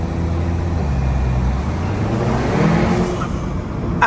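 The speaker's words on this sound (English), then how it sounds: "Let me see if we can get a sound of the exhaust going through the bridge." An upgraded Volkswagen GTI's exhaust roars loudly as it accelerates under a bridge, the deep engine note climbing in pitch and echoing as if in an enclosed underpass.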